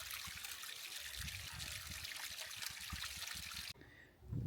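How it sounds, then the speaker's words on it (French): A tiny trickle of water flowing at Yellowstone, a steady close babble and dribble that continues evenly before cutting off near the end. "il y a un tout petit filet d'eau"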